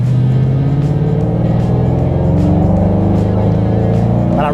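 Ford Mustang performance car accelerating hard, its deep, loud engine growl rising steadily and filling the whole stretch up close.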